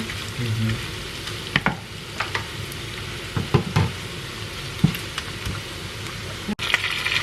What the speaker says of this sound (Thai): ทุกคนเห็นทอดเบคอน แล้วก็ใส่กระเทียมลงไป กระเทียมสับ